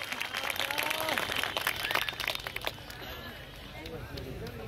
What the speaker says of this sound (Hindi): हम सभी जोरदार ताली बजाएं